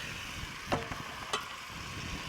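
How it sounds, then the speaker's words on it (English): Curry beef with boiled mango sizzles in a pan with a steady close hiss, broken by two brief stirring scrapes. "Listen to the sizzle."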